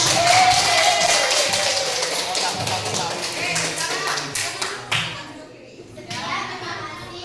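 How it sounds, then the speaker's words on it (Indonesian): A classroom of children claps for a group presentation, a brief burst of scattered hand clapping mixed with kids' chatter and a teacher's voice, fading into quieter room noise. "Kasih tepuk tangan dulu dan tepuk tangan."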